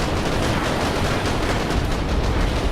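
Gunfire from a stuck fire button in the video game Junker Bot: a dense, unbroken stream of rapid shots, loud and close, with no pauses.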